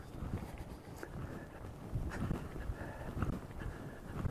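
Heavy wind buffets a microphone outdoors in Caprock Canyon, Texas, gusting in uneven low rumbles and surges that swell louder toward the end.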